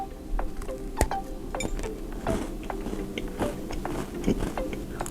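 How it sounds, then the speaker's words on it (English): Crisp bites and crunchy chewing of an IKEA oatmeal cinnamon cookie, close to the mouth, with several sharp cracks followed by irregular mastication sounds. "To start, I'm gonna try this oatmeal cinnamon cookie, and I got these at IKEA."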